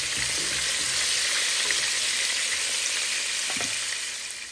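Fish frying in a pan at home, a loud steady hiss and sizzle of hot oil close up, with a few light scrapes and knocks underneath.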